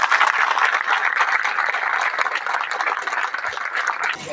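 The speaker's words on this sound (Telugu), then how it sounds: "చప్పట్లు కొట్టండి అందరూ" An audience at a Sri Anjaneya Swami temple festival claps in dense, sustained applause that stays loud and steady throughout before easing slightly at the end.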